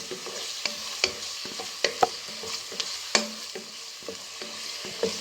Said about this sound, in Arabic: هاولك البصل تاعي راني ضفتو ليه هنا مع الثوم